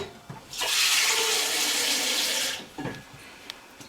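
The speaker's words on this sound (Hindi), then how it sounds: "अब पानी वगैरह डालकर इसमें मैं थोड़ा सा और पानी ऐड करूँगी" Water is poured into a pot of Lahori hareesa, a steady gushing splash lasting about two seconds, loud and close, followed by a few faint clinks.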